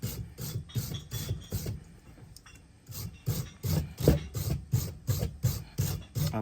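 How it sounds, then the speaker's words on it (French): Stiff wire brush scrubbing a galvanized coating off a metal pool cover winch, a fast run of rhythmic back-and-forth rasping strokes, a brief pause, then another steady burst, close and loud. "on brosse bien."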